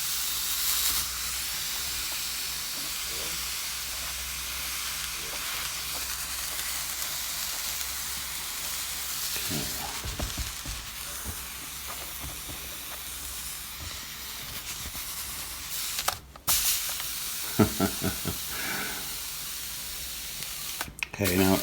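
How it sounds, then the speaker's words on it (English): A steamer hisses steadily over a knitted shawl, a continuous close spray of steam broken near the end by a few knocks and handling clatters. "after I steam this, it should be a bit damp"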